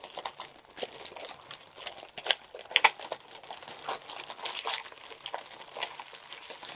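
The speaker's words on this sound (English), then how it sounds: "Sorry for the crinkling noise." Close, quiet crinkling of plastic or paper packaging, irregular crackles and rustles coming in bursts, with a few sharper crunches.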